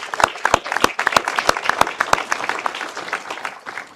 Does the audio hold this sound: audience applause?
yes